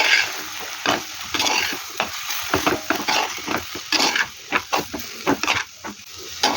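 Chicken being stirred with turmeric and pepper powder in a hot pan for pepper chicken gravy, a spoon scraping and clacking in quick irregular strokes over a low sizzle, close and fairly loud.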